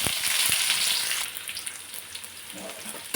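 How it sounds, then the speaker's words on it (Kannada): Chopped green chillies sizzle loudly in hot oil for an egg curry, a bright spitting crackle that is strongest at first and then eases slightly, with a few stirring knocks. "ಹೆಚ್ಚಿರೋಂಥ ಹಸಿಮೆಣ್ಸಿಕಾಯಿ ಹಾಕ್ತಿದ್ದೀನಿ"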